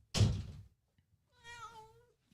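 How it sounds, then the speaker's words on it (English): A pet cat gives a single drawn-out meow after a dull thump, heard close in a quiet indoor room. "My kitty."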